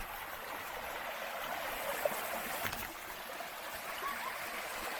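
Water flows steadily in a semi-canal beside a river, a continuous soft broadband rush with faint trickles, steady and fairly quiet throughout with no talk.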